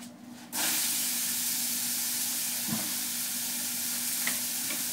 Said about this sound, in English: It's going to sizzle pretty loud here in a sec because I've already preheated it.